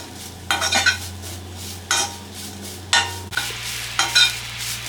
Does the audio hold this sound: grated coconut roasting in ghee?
yes